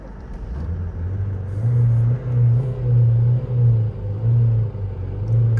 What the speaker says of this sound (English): Every time it gets below a certain amount of RPMs, it just cuts off.